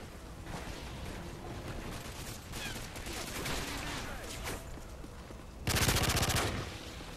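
A P90 submachine gun fires in rapid automatic bursts during Modern Warfare 3 play, a fast rattling chatter over continuous game noise that grows loudest in one final sustained burst near the end.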